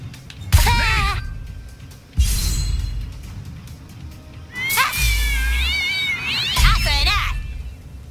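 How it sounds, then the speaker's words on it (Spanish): Many cats meow and caterwaul in a South Park video game, loud, overlapping yowls in several bursts over steady game background noise. "Son muchísimos gatos."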